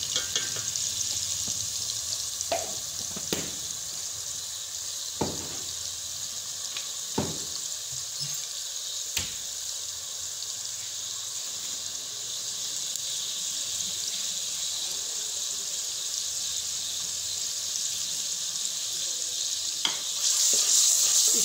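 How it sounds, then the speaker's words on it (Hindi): Spices and tomatoes frying in a pan for an aloo matar gajar curry, a steady close sizzle running throughout, broken by a handful of sharp clicks and scrapes of a spoon stirring against the metal. "मैं दो मिनट भूनती हूँ इसे ये टमाटर भी नरम हो जाए"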